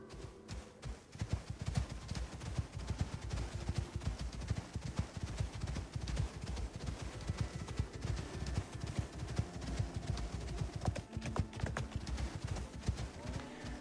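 Horse hooves clip-clopping in the survival video game Icarus, a fast, steady rhythm of fairly soft hoof strikes running unbroken throughout.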